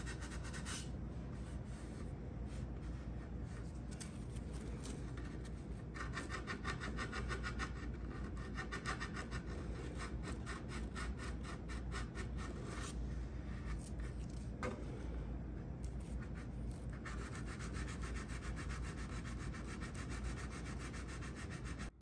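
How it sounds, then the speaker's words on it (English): Continuous rough scraping of sandpaper rubbing back and forth over Bondo filler on a wooden dresser, close and loud, with brief pauses in the strokes. "so you just have to just keep sanding until you reach the look that you're wanting"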